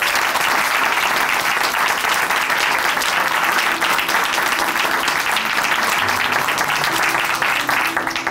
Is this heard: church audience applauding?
yes